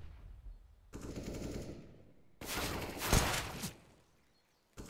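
Bursts of automatic rifle fire and single gunshots from a Counter-Strike match on the Inferno map, loud and close in two sustained volleys separated by brief quiet, with no talking.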